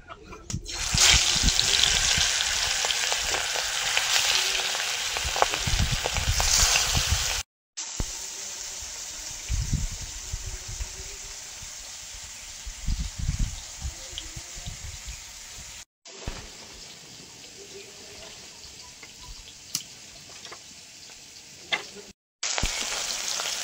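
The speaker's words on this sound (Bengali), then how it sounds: "প্রথমে পাঙাশ ট্যাংরা ভেজে নেব।" Pangas and tengra fish fry in hot oil with a continuous crackling sizzle. It is loudest in the opening seconds, then settles into a steadier bubbling broken by a few brief silences.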